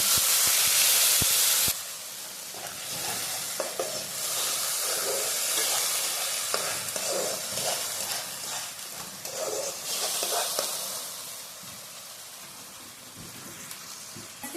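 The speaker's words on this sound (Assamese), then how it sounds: "এতিয়া আমি যিখিনি গ্ৰেভি বনাই থৈ দিছিলোঁ সেইখিনি ইয়াতে দিম।" Prepared potato pakora gravy poured into hot oil, with a loud hiss at first that drops to a steady sizzle and bubbling, stirred now and then.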